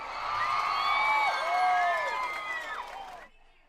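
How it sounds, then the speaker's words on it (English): Cheering arena crowd at a live wrestling event in Detroit, a loud sustained roar with whoops and shouts that swells mid-way and then cuts off abruptly near the end. "Listen to this. Listen to this crowd."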